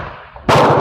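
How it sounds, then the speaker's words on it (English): A K31 Swiss rifle fires a single shot with an SST bullet, a sudden loud blast after near silence, followed by a booming ring that carries to the end. "today I'm shooting a SST bullet"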